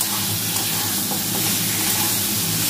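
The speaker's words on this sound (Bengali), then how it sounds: "ফুলকপিটা কষানো হচ্ছে।" Cauliflower sautéing in a pan with a large amount of oil, giving a steady, close sizzle and frying hiss throughout with no pauses, alone without voices.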